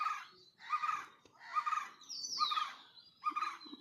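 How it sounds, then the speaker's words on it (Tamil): Birds call and chirp among trees at a temple in spring, with repeated bursts of bright song and one rising whistle, fairly close and clear with no talking. "மரத்துக்கு நடுவில் ஏதோ பறவை வேறு இருக்குது, சவுண்டு இருக்குது."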